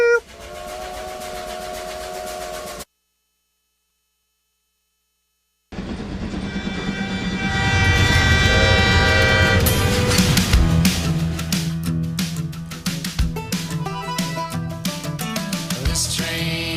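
A train sound effect at a church live stream, a brief tone that cuts to silence, then rumbling rail noise with rhythmic clatter and music building over it, loud and close.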